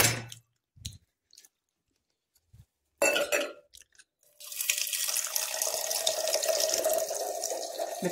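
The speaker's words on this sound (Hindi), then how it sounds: "मैं पानी को भर रहा हूँ फिर पीऊंगा।" Water fills from a tap, a steady close hiss and splash running for several seconds after a few scattered clicks, knocks and handling noises in an otherwise quiet room.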